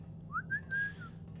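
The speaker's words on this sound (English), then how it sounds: "No, that is the Hammerites are whistling" Hammerites whistling in the video game Thief Gold: a short rising whistled phrase of a few clear notes, moderately loud over a steady low hum, with no talking.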